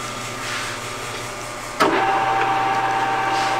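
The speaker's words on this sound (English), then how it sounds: "you can start up the phase converter" A phase converter in a machine shop, used to power a cylinder boring machine, kicks on with a sudden thump and settles into a steady electric hum with a high whining tone, over a low background drone.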